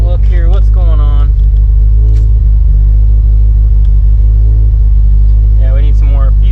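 A Subaru STI Type RA idles after its first start with a loud, steady, deep rumble. Someone talks over it briefly at the start and again near the end.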